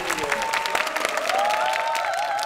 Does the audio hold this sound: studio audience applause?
yes